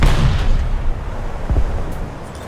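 Warship turret fire striking a ship in War Thunder, a heavy booming impact at the start, then a rumbling tail with another deep thud about midway, loud and close.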